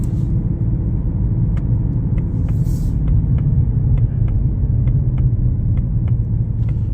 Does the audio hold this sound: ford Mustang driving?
yes